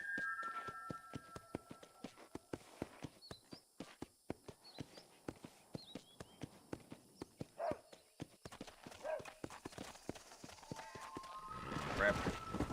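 Horse hooves clip-clop at a steady walking rhythm in Red Dead Redemption, with a couple of whinnies and snorts breaking through; near and clear, with someone talking over the ride.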